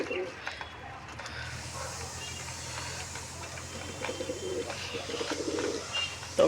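Lotan pigeons cooing in a loft, soft low coos repeating under a busy background with rustles and faint clatter, and occasional brief sounds near the end.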